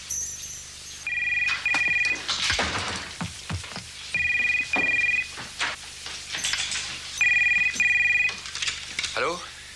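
A telephone rings in three repeated electronic bursts, each a pair of bright warbling trills, heard over a French-dubbed action scene with music and people talking between the rings.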